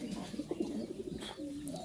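Fancy pigeons cooing softly in a low, rolling murmur while bathing, several birds close by with a faint chirp or two above the steady ambient hum.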